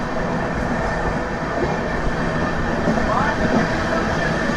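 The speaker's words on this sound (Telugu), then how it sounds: "ఆ ట్రైన్ వచ్చేసి మనకు ఎస్ఎంబీపీ నుంచి హౌరా వెళ్ళే ట్రైను" An SMBP to Howrah superfast train passes close by as a steady, loud rumble of rolling wagons that lasts throughout, with faint wheel squeal partway through.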